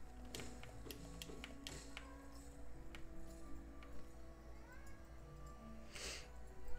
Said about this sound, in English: there goes my kitty